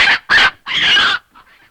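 A chicken clucks and squawks in loud, close bursts, three strong calls followed by fainter trailing cackles, in a Tamil comedy film scene set around a prized hen.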